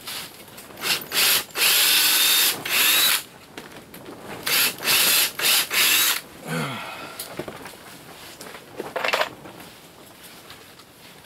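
A power drill driving screws into shelving under a tiny house kitchen counter, several loud whirring bursts of a second or two each with short pauses between, up close, followed by quieter handling clatter.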